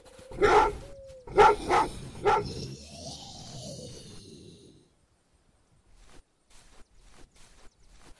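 Dogs barking in the survival video game Trials of Wilderness: a few close, sharp barks in quick succession, then a drawn-out whine or howl that fades, followed by faint scattered clicks and quiet.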